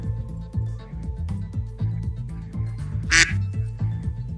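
Repeated rhythmic duck-like quacks from a character in Rain Code, a steady looping pattern over music with one brighter sharp burst near the end.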